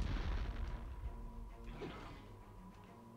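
Gunfire in an Acclaim Nintendo 64 video game: a loud booming volley at the start that fades into softer scattered shots under a droning game soundtrack.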